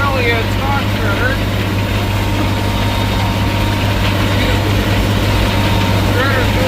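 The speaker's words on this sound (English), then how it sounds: "I'm out here on the last pass of chopping corn stalks to get raw baled here." A tractor powering a stalk shredder through corn stalks in a harvested field, a loud, continuous low engine drone with a steady hum, while someone talks over the machinery.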